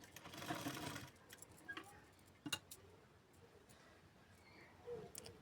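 A domestic sewing machine stitches blouse fabric with its lining, a quick burst of rapid mechanical whirring at the start followed by quieter ticks and short clicks, close and fairly faint.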